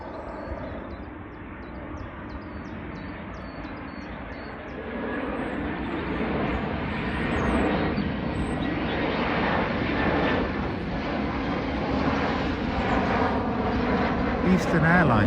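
An Eastern Airlines airliner coming in to land at Leeds airport, its engine roar swelling gradually from a distant rumble to a louder, broadband whoosh as it approaches, heard from a hillside with wind and background noise.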